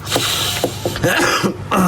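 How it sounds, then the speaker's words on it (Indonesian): A few short, muffled coughs in quick succession, close to the microphone over a steady background hum. "Maaf ya, batuk."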